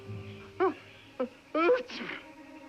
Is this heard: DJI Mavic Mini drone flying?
no